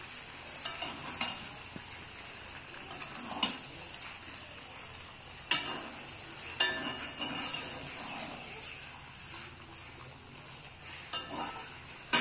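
Chicken sautéing with spices and chilli powder in a pan gives a steady sizzle, broken by scraping stirs and occasional sharp clinks of the utensil against the pan.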